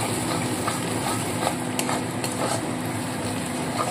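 Spices and cumin paste sautéing in a pan for chicken do pyaza, a steady close sizzle with soft stirring scrapes throughout, no voices.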